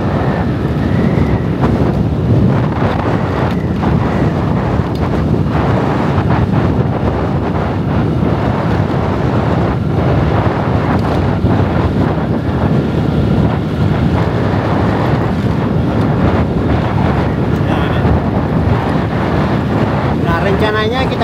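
Strong, continuous wind buffets a microphone on a motorbike riding through windy Sidrap, a dense roaring rush that smothers everything for the full stretch, with no break or change in intensity.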